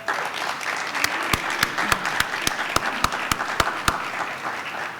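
At a community forum on traffic stops and policing, a crowd applauds Valerie Castile, mother of Philando Castile. Steady, moderately loud clapping fills the room, with distinct individual claps punctuating the wash throughout.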